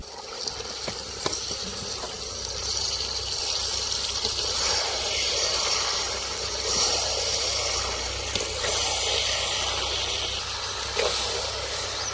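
Black chicken (Kadaknath) meat tipped into a pan over softened tomato and onion and stirred, giving a steady, loud, close hiss of sizzling that runs unbroken throughout.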